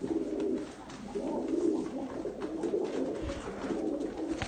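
Steady pigeon cooing fills the clip, a low, throaty, continuous rumble of several birds close by with no talking.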